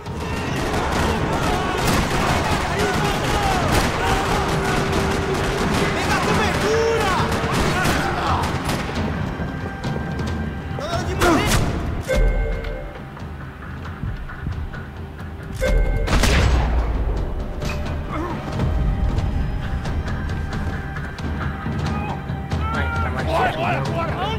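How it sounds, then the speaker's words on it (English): Continuous crackling gunfire and scattered booms fill a parking lot shootout in the video game Max Payne 3, with a couple of sharper nearby bursts standing out against the dense rattle. "Another parking lot rattling with gunfire."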